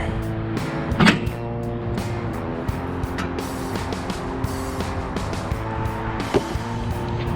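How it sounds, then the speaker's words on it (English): Failing blower motor with burnt, blackened windings in a commercial rooftop HVAC unit, running as a steady droning hum with tonal whine, close and continuous, with a couple of brief clunks. "That motor doesn't sound very good."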